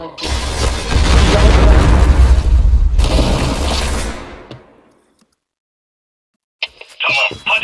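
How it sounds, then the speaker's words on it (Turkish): Grenade blast in the Point Blank shooter, a loud, heavy booming explosion with a long rumbling tail lasting several seconds before dying to silence, followed by faint game clicks. "bomba gidiyor"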